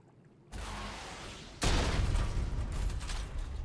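Heavy explosive blasts and dense roaring gunfire from rockets and grenades in the video game ARK, loud and continuous, jumping sharply louder after a brief quieter burst, no voices.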